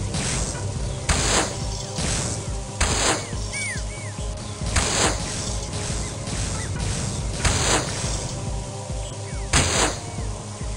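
Grenade blasts and gunfire from an Xbox One shooter in hardcore mode: sharp broadband bursts strike about every two seconds over a dense, continuous bed of battle noise, fairly loud and close.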